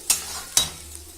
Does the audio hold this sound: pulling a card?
no